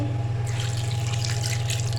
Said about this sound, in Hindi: तो आप इसमें पानी ऐड कर देंगे